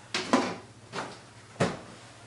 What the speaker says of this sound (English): And then replace the lid.